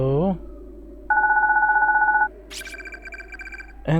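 A phone rings in the horror game Corpse Party: BloodCovered, steady electronic ring tones holding for about a second and then a brighter repeated trill, with a voice speaking briefly at the start and end.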